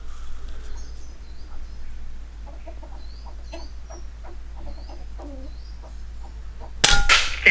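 An FX air rifle fires one sharp, loud shot through a chronograph near the end, after several seconds of quiet outdoor background with a rooster clucking faintly in the distance.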